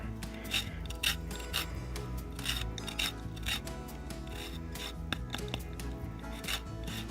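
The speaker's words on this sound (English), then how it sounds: "I don't really have a zester, so I'm hoping this works. This little baby cheese grater." A lemon being zested on a small cheese grater, giving repeated rasping scrapes in an uneven rhythm, close and fairly loud, with no talk.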